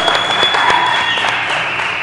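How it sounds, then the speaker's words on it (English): A small studio crowd at a charity telethon applauds and cheers steadily, a dense wash of clapping with scattered whoops. "as that total gets higher, the limited crowd that we have here gets louder"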